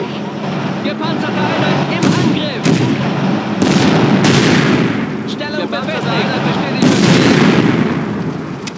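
Artillery and gunfire in the WWII strategy game Blitzkrieg 2, repeated heavy booms and sharp shots rolling over one another in a loud, dense barrage, with voiced radio-style unit reports heard amid the battle.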